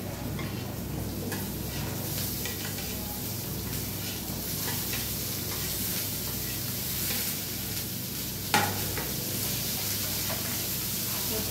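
Carrots, beans and onion stirred in a hot pan give a steady, close sizzle with faint scraping and ticking from the spoon. One brief knock sounds near the end, and no one speaks.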